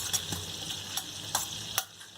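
Coarsely ground garlic sizzles softly in melted butter for dal makhni, a quiet steady frying hiss broken by a few light clicks of stirring against the pan.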